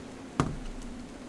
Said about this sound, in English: Sorry about the noise. I knocked over one of my tablets.